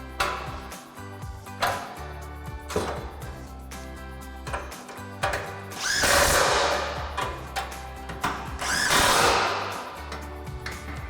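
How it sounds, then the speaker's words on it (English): A power tool tightens lock nuts with a 17mm socket on a Barricade Extreme HD rear bumper for a 2021-2023 Ford F-150, giving repeated rising whirring bursts separated by short pauses. "then we can take a 17mm socket to tighten this down"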